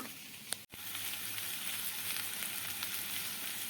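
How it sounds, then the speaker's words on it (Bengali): Pointed gourd and potato fry with chilli, pepper and spices in a pan, making a constant close sizzle. A brief clatter of a spoon sounds near the start, followed by steady frying with no voices. "এবারে আমি কষাতে থাকবো এটাকে দু থেকে তিন মিনিটের মতো"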